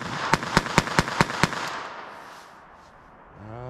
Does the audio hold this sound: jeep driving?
no